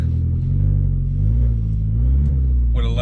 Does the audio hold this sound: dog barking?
no